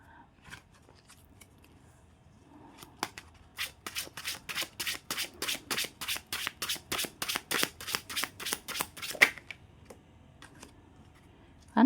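A deck of tarot cards is riffled and shuffled in a fast, even run of crisp flutters that build in loudness, framed by a few softer card handling taps before and after.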